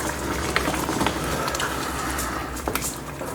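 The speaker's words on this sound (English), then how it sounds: "I'm going to let it simmer down" Wild hog sloppy joe mixture simmering in a covered pot, a steady soft bubbling hiss with occasional faint pops, close and moderately loud with no talking.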